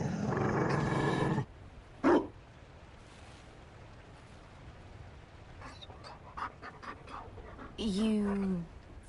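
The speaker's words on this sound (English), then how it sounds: "You found a dog?" Panting from a Mabari war dog in Dragon Age: Inquisition, a loud breathy burst at the start, then brief sounds and a voice speaking near the end.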